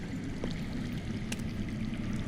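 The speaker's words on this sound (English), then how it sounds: "I hear water. From underground." Steady, continuous flow of water runs underground in Telltale's Game of Thrones, a soft, even trickling stream heard alone at moderate-low volume.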